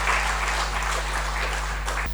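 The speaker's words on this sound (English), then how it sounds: "May I request the audience to welcome them with a big round of applause." Round of applause from a conference audience at the IEC LVDC Summit, a steady, moderately loud wash of clapping from many hands heard over a constant low electrical hum.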